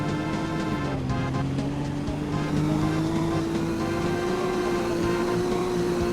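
A tuned 400-horsepower car engine in the Roblox game Greenville accelerates with a steady, rising droning hum that climbs smoothly in pitch, loud and continuous with no talk.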